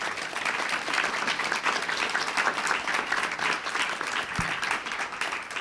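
An audience gives a steady, dense round of applause for panelists at the close of a discussion event, even and sustained throughout with little speech.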